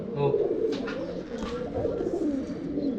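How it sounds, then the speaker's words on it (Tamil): Fantail (thavadal) and other pigeons coo in low, rolling throaty phrases close by, steady throughout, with faint bird chirps and a voice talking over them. "இந்த புறா வந்து நைட் வந்து டைம் பண்ணும்"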